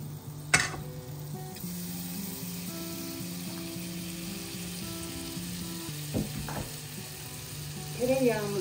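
Butter fries in a pan while meatballs and vegetables are being prepared, a steady close sizzle that runs throughout. A few sharp clinks and a stirring scrape rise briefly above it.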